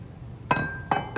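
Hammer striking a homemade metal shaping tool made from a cut-down axle, set on a log, three sharp ringing metallic hits with brief decays, loud and close, no talking.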